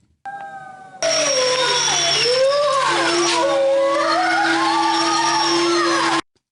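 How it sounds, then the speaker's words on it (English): A wolf howl rises and wavers over a steady underlying tone, loud and close, holding for about five seconds before cutting off abruptly, after a fainter lead-in. "Wolf howl."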